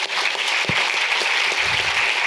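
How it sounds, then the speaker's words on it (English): Audience applause after a talk on traffic control history, a steady broadband patter of clapping filling the room at close range, with a couple of low thumps and brief murmur near the end. "Howard, please, round of applause, please."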